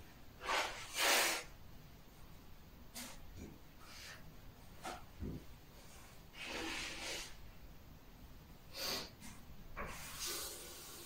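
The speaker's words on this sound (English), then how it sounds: "I need to blow my nose." Several short, breathy blasts of air, like someone blowing their nose in bursts, with pauses between each forceful snort.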